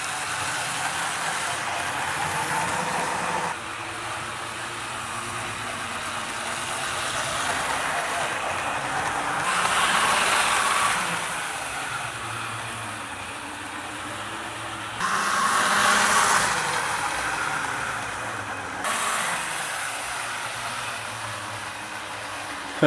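A Tri-ang Blue Pullman model train runs along its track with a continuous close whirring motor hum and rail rumble that swells and fades as it passes, and it briefly slows.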